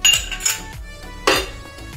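A utensil clinks and scrapes against a pan while poha is mixed, giving a few sharp metallic taps spaced irregularly over two seconds, with no voices.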